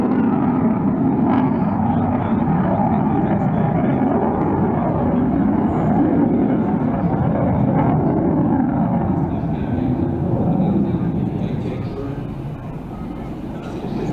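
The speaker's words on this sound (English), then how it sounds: "using a little bit of reheat there to accelerate the aircraft" A Panavia Tornado two-seat jet accelerates on reheat with gear and flaps up during an air display, giving a steady, loud, broadband roar that fades slightly toward the end, with a commentator talking over it.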